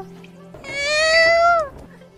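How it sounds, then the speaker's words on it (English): In a Minecraft-style cartoon animation, a single drawn-out, sad cat meow rises and falls, loud and close, with a faint voice around it. "This is a sad cat. Meow."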